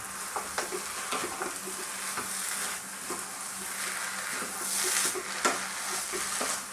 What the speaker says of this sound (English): Now, as you can hear, this is frying